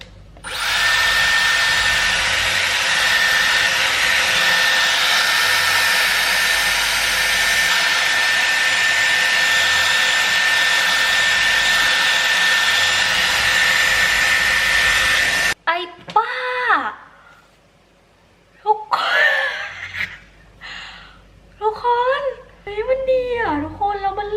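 A handheld hair dryer blows loud and steady for about fifteen seconds while hair is blow-dried, then cuts off abruptly and a voice talks afterward.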